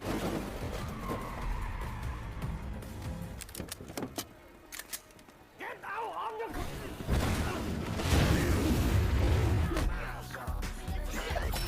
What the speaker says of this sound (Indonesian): Awalnya menaiki mobil van, tapi kejar-kejaran tetap terjadi.